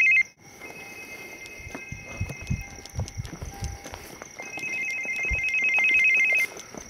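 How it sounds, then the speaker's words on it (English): A phone ringing somewhere nearby, a high electronic tone that sounds in long bursts, first briefly and then more steadily, over footsteps and shuffling. "I think it's someone's phone."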